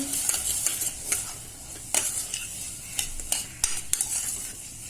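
Masoor dal with salt and turmeric stirred by spoon in a cooking pot, giving a run of quick scraping clinks and soft sizzling at a steady, close, moderate level with no talking.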